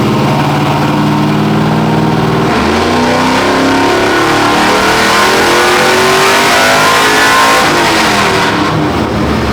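An LS-swapped OBS Chevy truck held in second gear on a dyno, its engine revving hard and loud throughout, the pitch climbing steadily with a shift in tone partway through and no talking.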